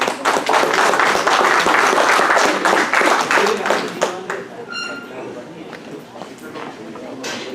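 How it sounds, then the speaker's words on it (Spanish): An audience at a health and safety at work meeting claps for a speaker, a dense burst of applause that gradually thins out and fades toward the end. "Un aplauso para él."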